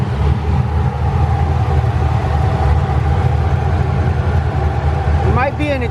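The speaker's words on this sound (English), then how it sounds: "I do hear some ticking" A car engine idles continuously up close with a steady low rumble, and a faint ticking that may come from an exhaust leak runs through it. A brief rising tone enters near the end.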